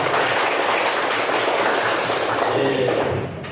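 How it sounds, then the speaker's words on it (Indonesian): A classroom of children clapping their hands together on cue during an Islamic religious education lesson, a dense, continuous wash of many small claps, close and loud, fading slightly at the end. "Tepuk tangan dulu"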